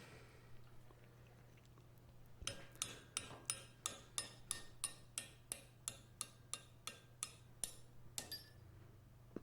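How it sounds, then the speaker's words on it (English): Light, evenly spaced taps of a hammer, about fourteen in a steady rhythm, soft and close over a low electrical hum in an otherwise quiet room. "That verges on the most gentle hammering I have ever had on this channel."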